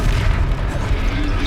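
A Confringo explosive spell blast in Hogwarts Legacy during a troll fight, a loud, dense booming rumble with heavy low-end roar that fills the moment steadily, with a voice faintly mixed underneath.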